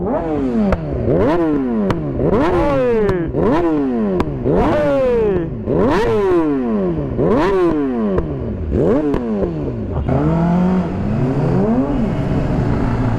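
A 600cc sport motorcycle engine, either a Honda 600RR or a Yamaha R6, revs loudly in repeated rising and falling bursts close by, then settles into a rougher idle toward the end.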